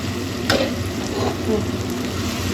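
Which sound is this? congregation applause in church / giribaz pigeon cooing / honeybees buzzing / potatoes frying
potatoes frying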